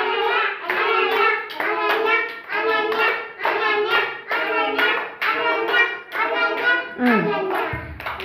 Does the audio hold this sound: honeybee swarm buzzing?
no